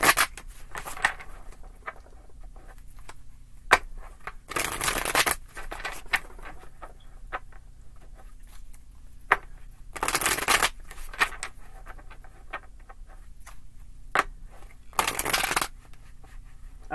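Tarot cards are shuffled by hand in short, crisp riffling bursts, close and distinct, separated by quiet stretches with faint handling taps.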